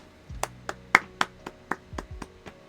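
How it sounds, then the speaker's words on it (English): Sharp hand claps, about nine of them at a slightly uneven pace, close and fairly loud with no other sound between. "I'm applauding you, dude."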